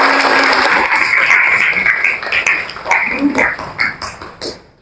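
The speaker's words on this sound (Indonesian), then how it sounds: "Kasih tepuk tangan dulu buat kita semua." A classroom of students claps together after a biology lesson, the applause loud at first and then thinning into scattered individual claps before fading out.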